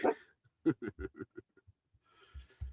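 A dog barks and yips in short separate bursts nearby, spaced irregularly, with soft breathing or whimpering between and faint noise at the end.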